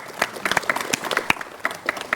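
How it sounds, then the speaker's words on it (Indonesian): A small audience at a pre-dawn Ramadan gathering claps in scattered, uneven bursts, with individual hand claps standing out sharply rather than merging into a full roar. "kita berikan tepuk tangan"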